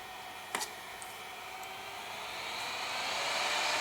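A hot air rework station blower running beside a soldering iron, giving a continuous airy hiss that swells gradually louder, with a brief click near the start.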